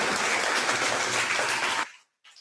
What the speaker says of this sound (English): Let's give a round of applause, everybody, to Razorback freshman Meleek Thomas and Amere Brown.